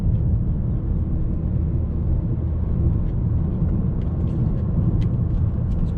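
Engine of a stock 2008 BMW 335i while driving, a steady low droning rumble from inside the cabin with faint high ticks, continuous and even.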